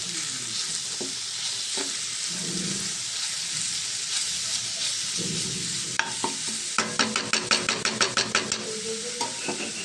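Carrot fry with turmeric, chili powder, cumin powder and salt sizzles in a pan while a utensil stirs and scrapes through it, ending in a run of quick rhythmic taps against the pan.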